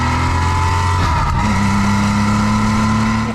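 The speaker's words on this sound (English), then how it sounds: "the way it just pops and bangs and snarls on the overrun" A loud Porsche 911 993 engine drones steadily with a shift in pitch partway through, popping on the overrun, close and continuous with no talking.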